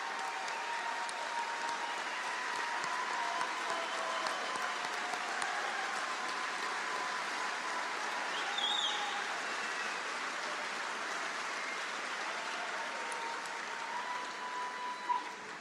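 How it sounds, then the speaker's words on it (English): An auditorium audience at a medical school white coat ceremony applauds the incoming class in a long, steady, fairly soft wash of clapping, with a faint background tone and no talking. "Let's applaud the class of 2028"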